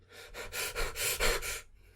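Heavy, rhythmic breathing from an anime episode, about five loud breathy pulses in quick succession, close and with no talk over it.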